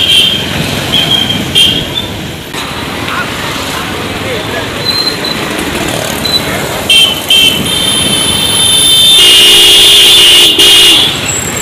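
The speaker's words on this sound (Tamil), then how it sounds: "ஒரே நேரத்தில் 4 வண்டி வருது." Busy road traffic on a crowded street, with several vehicles passing close at once amid a constant roadway rumble and repeated sustained horn honks, the longest near the end.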